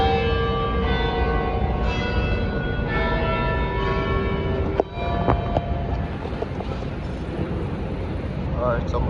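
Church bells ring out with sustained, overlapping tones over a constant windy rumble, which continues after the ringing thins out midway.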